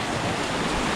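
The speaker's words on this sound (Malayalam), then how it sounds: "ഒത്തിരി ഫോഴ്സോടെ ഒഴുകുക വെള്ളം, നല്ല ഫോഴ്സായിട്ട് ഒഴുകുക" The Ganges river rushes forcefully, a dense, steady roar of churning water filling the sound without pause, close and fairly loud, with no voices.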